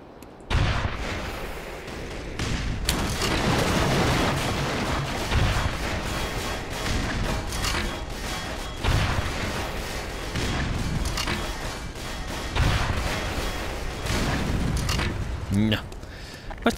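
Gunfire in the video game Black Mesa on hard difficulty: repeated loud shots and booming bursts spread across the clip, some in quick runs, with someone talking in between.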